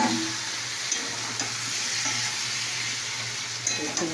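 Potatoes fry in a pan with a continuous close hissing sizzle while being stirred, with a few soft utensil knocks and a low steady hum underneath.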